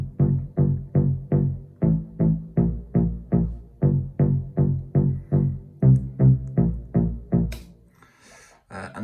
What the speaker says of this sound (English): So the bass line sounds like this.